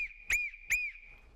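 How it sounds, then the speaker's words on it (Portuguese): Short boat whistle blasts signalling that the vessel is going astern; two clear, piercing toots stand out against quiet surroundings, without any talk. "3 apitos curtos quer dizer que a embarcação vai dar seguimento a ré."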